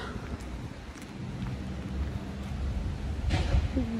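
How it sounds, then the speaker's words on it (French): Wind and rain outdoors on a dreary day, with gusty rumbling wind noise buffeting the microphone and a steady patter of rain, growing slightly louder toward the end. "Il y a du vent, il fait moche, il pleut."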